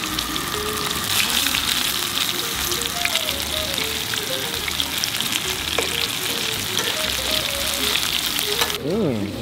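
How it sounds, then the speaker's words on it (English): Fish sizzles and crackles loudly in a hot pan, a dense continuous spatter with faint voices murmuring underneath. "Just a little frying up stuff."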